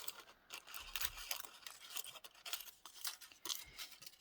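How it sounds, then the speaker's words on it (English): Scissors snip and crunch through paper while a rough rectangle is cut out for a collage crown: a close, steady run of crisp cuts with small rustles between them and no talking. "So I'm going to kind of just cut a rough shape rectangle out."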